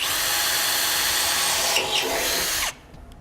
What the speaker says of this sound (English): we're going to need to drill those out because those are actually factory tack welds